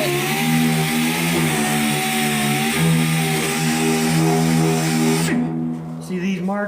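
A power sander with 3M red 80 grit runs against the body of a truck, a loud, steady, close whine with a droning hum that cuts out near the end as a voice speaks.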